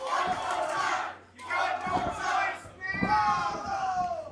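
A video game wrestling arena crowd roars loudly in repeated surging waves of cheering and shouting, with a short dip between bursts.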